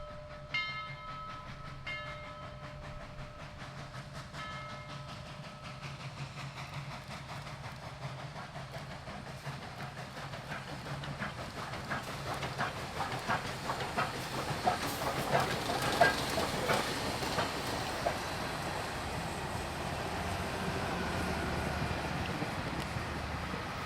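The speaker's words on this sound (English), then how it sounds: "number 4501 eases her train's speed before she enters downtown" Southern Railway locomotive No. 4501 rumbles past, slowing its train on the approach to downtown, with rhythmic clattering of wheels over rail joints, building gradually in loudness, and a brief horn tone early on.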